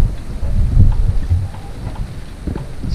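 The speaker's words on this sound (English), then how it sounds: "And the wind is starting to rain now." Rain falling on a sailboat during a squall, a steady hiss of drops mixed with low wind rumble and buffeting against the hull, loud and continuous with no talking.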